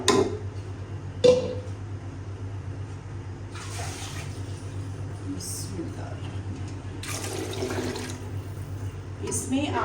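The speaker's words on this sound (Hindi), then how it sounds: "अभी इसमें ऐड करेंगे पानी" Water gushes into a cooking pot in several separate pours, eight glasses for boiling rice, with a metallic clank and a voice talking in between.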